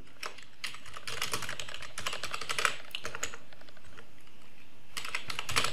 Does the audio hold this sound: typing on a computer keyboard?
yes